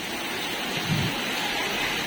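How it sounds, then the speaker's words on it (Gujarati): Steady monsoon rain pouring down on a car, a continuous broadband hiss with no voices, moderately loud and even throughout. "આજ બહુ સારો આવ્યો છે વરસાદ"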